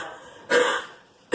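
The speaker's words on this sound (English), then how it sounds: "Basically, you force yourself to cough." Two forceful coughs, a longer harsh huff followed after a pause by a short sharp second one, close up with quiet in between.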